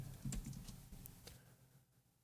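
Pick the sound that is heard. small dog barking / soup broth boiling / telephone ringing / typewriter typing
typewriter typing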